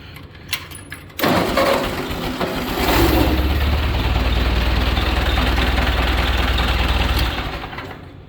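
A 1955 GMC 100 truck engine cranks and catches about a second in, then settles into a loud, steady, rough idle that rumbles on with no talk until it fades slightly at the end.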